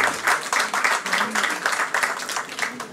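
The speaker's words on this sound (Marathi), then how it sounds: "एकदा जोरदार टाळ्या झाल्या पाहिजे सरांसाठी" Audience applause at a book launch ceremony in honour of an institution's founder-president, a dense, steady wash of many hands clapping throughout, loud and close with slight rhythmic swells and no voices.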